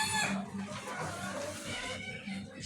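Farm hens kept for egg laying and hatching cluck steadily and close by, with repeated short calls over a busy poultry-house background for the whole stretch.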